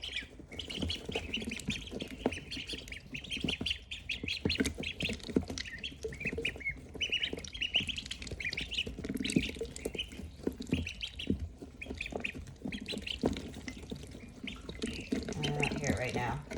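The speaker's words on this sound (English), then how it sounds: "these ducklings are not in nature right now, you can hear them filtering that water" Ducklings dabble and filter water with their beaks, giving soft wet sucking and splashing close by, mixed with small squawks and chirps.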